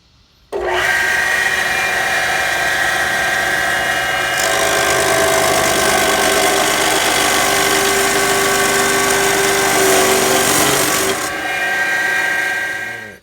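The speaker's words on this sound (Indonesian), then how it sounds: "Ini besinya kita potong jadi 2 bagian." An iron bar being cut into two pieces for welding practice gives off a loud, steady, harsh grinding roar. It runs unbroken for about eleven seconds with no talk, then cuts off abruptly.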